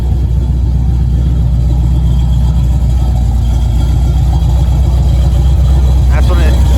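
A 1981 Camaro drag and street car engine idles loud and close after fixing coolant and intake leaks, a steady deep rumble with a faint voice near the end.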